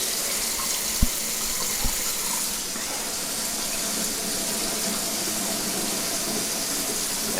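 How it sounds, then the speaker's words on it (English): Water from a kitchen sink tap runs steadily under a cabinet being checked for leaks at a P-trap and dishwasher connection, a continuous close hiss with two small knocks near the start. "We're going to turn the water, test for leaks."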